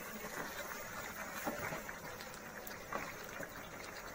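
Chicken roast simmering in milk inside a covered pot, a soft steady bubbling hiss that stays low and even throughout, with no talking.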